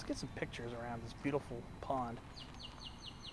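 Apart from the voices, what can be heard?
great-tailed grackle chirping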